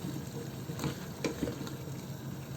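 Frozen and fresh tomatoes stirred in a frying pan for a fish and cauliflower curry, a steady soft sizzle with a few scraping spoon strokes, close and moderately quiet, no voices.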